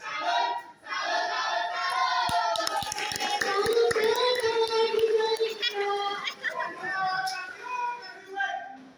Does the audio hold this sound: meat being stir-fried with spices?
no